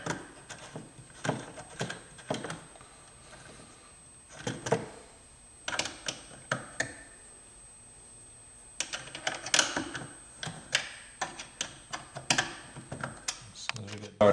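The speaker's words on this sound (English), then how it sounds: "we take our Allen wrench, we're going to tighten all these down" An Allen wrench tightens nuts on a car air intake on a 2010 Camaro SS, giving rapid small metallic clicks and ticks in uneven clusters, with speech heard at times.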